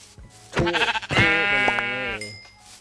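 A sheep bleating in the video game Minecraft, two close, loud wavering bleats, the second long and drawn out, heard alone without talk.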